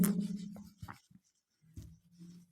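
Pen scratching across paper during a handwritten English grammar exercise, a few short close strokes with brief pauses between them, quiet and alone.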